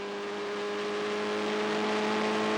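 A 1995 race car engine held at top revs in fourth gear on the Trois-Rivières street circuit, a loud, steady high-pitched drone with a sustained whine throughout, with no talk over it.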